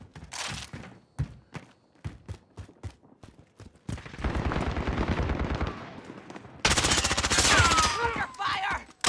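Call of Duty gunfire: separate sharp shots and short automatic bursts, then dense, sustained fusillades of rapid fire, loud and close.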